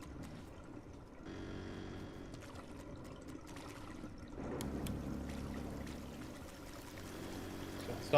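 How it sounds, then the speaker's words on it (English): Water pours and trickles into a drain in the video game DrainSim, a faint steady flowing stream that swells partway through and runs on without speech. "This will act as a bit of a blockage, so I can drain this water"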